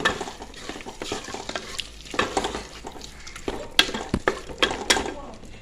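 Chicken stirred in a frying pan, with close scraping, clinks of a utensil against the pan and sharp clatters over a soft, constant sizzle.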